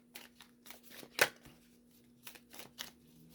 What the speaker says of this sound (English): Okay, a couple more shuffles.